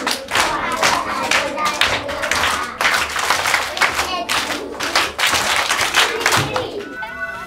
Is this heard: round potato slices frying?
no